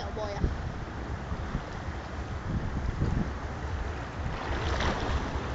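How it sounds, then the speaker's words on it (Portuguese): A drifting boat out on the open sea, with no oars, surrounded by continuous rushing wind and wave noise that buffets the microphone, steady and fairly loud throughout with no clear voice. "Barco à deriva, sem remo! Sem comandante!"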